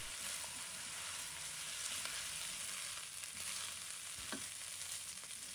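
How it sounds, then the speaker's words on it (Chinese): Taro and washed rice stir-fried in a wok, with a steady dense sizzle and occasional scrape of the spatula throughout, no voices. "再把清洗好的米放入锅中，继续炒香。"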